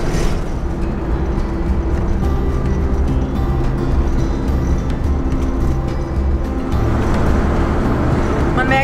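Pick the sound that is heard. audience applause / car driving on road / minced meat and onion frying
car driving on road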